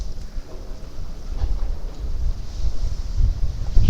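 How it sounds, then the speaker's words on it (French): Strong wind roaring through an abandoned factory warehouse, a steady low rumbling gust with buffeting on the microphone that builds slowly toward the end. "Là, il y a full vent, les gars."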